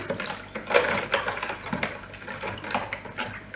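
Wet, sticky stirring and squelching of yeast dough made with water and no eggs in a bowl repeats in uneven strokes up close, with small clicks of the utensil against the side.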